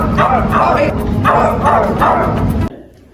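Several dogs bark and yip in repeated bursts over continuous background noise, loud and close, stopping abruptly near the end.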